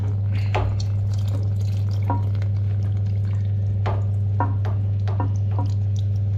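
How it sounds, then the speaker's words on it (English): Water trickles and gurgles steadily from a disconnected valve into a bucket, with small splashes and drips over a constant low hum. "We just disconnect that slowly and just let the water drain into my bucket."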